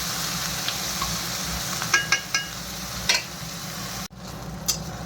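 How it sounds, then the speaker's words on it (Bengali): Onion, tomato and green chilli fry in a pan with a steady close sizzle, broken by a few sharp stirring clinks and taps, then a brief dip before the hiss resumes. "পেঁয়াজ আর টমেটো, কাঁচা লঙ্কাটা লাল লাল করে ভেজে নিই।"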